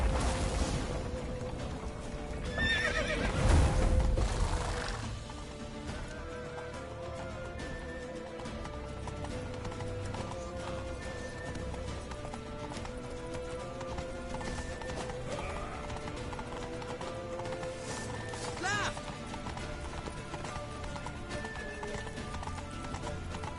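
Hooves clip-clop rapidly as a horse gallops in The Witcher III, loudest early on and then continuing as a steady rhythm beneath game music and ambient effects, with an occasional whinny.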